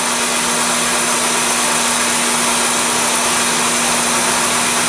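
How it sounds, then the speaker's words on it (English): A tabletop core drill with water cooling bores down into a piece of rock, giving a loud, steady motor whine with constant grinding noise and a fixed high tone throughout, no voices. "And we just continue on down, drilling this down like this."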